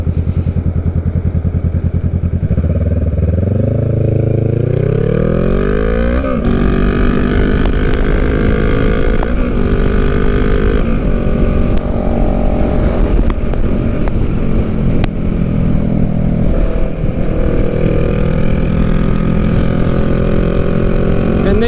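A Honda Rebel 500 motorcycle cruises on a Maryland highway, its engine droning loud and close throughout with rising and falling pitch as it shifts through gears, wind noise mixed in.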